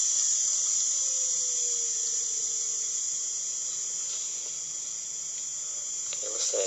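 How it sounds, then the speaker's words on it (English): A Zilog ZNEO three-phase BLDC motor in a control demo setup gives off a steady high-pitched electronic whine alongside a faint, gradually falling lower tone as the motor slows down, with no talking. "You can hear the noise as the motor speeds up."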